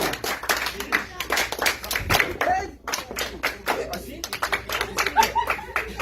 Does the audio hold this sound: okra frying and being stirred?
no